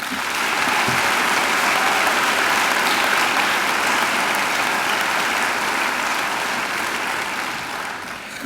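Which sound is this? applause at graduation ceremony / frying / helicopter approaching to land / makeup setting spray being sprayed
applause at graduation ceremony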